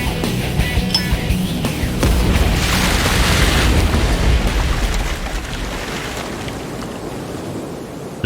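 A grenade explodes in a T-Rex's mouth in a Dino Crisis cutscene: a deep, loud boom swells into a long rolling roar that lingers for several seconds, then fades into a lower rumble, with no talk.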